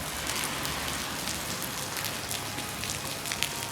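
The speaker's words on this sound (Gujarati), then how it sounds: "વરસાદ આવી ગયો છે." Steady rain pours down at a roadside camp beside a petrol pump on a cycle trip from Srinagar to Sonamarg, a dense continuous patter and hiss with no voices, constant in level throughout.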